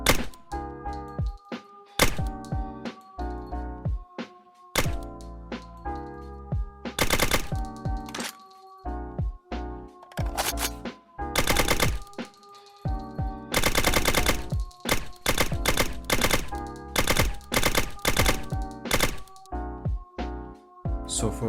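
Video game weapon gunshots fired one after another at the weapon's fire rate, mixed with the clinks of dropped empty bullet casings; sharp, loud repeated bangs in irregular bursts with brief gaps, no voices.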